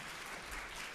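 Audience applause at a design summit and awards event, a steady dense wash of clapping heard at a distance for about a second with no voices.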